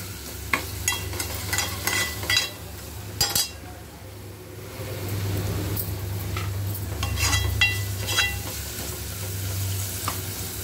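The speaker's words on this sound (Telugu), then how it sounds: "అల్లం వెల్లుల్లి కూడా మంచిగా పచ్చివాసన పోయేంత వరకు మనం ఫ్రై చేసుకోవాలి" Ginger and garlic fry in hot oil, sizzling steadily up close while a utensil repeatedly clinks and scrapes against the pan in bursts of stirring.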